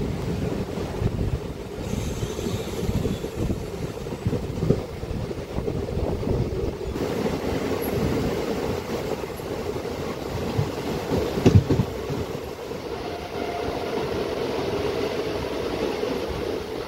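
A DEMU local train runs steadily between Malkajgiri and Siddipet, giving a continuous low rumble with rattle and wind buffeting, and a brief louder clatter near the middle.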